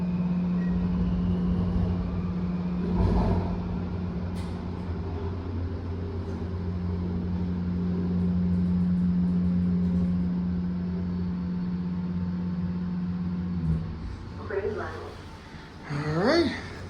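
An elevator motor at the NoMa-Gallaudet U Metro station in Washington DC hums steadily as a low, even drone for most of the ride, with a faint thump early on and people talking near the end.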